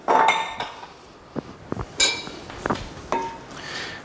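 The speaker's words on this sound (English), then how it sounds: "Pop that in and stir everything together." Barbecue coleslaw being stirred into a dish: a few close clinks and knocks of a utensil against the bowl, then softer scraping taps spaced irregularly, with no voices.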